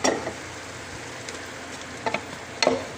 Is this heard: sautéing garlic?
yes